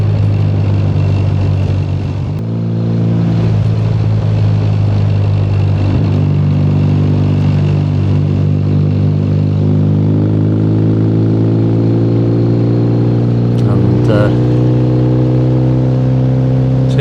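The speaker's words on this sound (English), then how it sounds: "So yeah, just roll the throttle on this bike, you know, away I go." A Triumph Bonneville motorcycle is ridden on an English road in November, its loud engine note rising steadily through the gears with a few brief dips as the throttle is rolled on.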